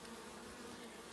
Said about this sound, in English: So just listening to the bees, the activity level